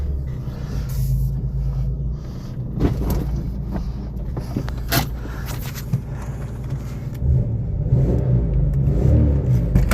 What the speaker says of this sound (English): I'm not used to having a V6 5-speed quiet.